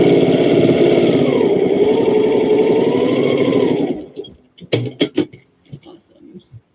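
A sewing machine motor whirs steadily and loudly for about four seconds while stitching a sashing strip onto a row of quilt blocks, then stops, leaving a few sharp clicks and handling noises.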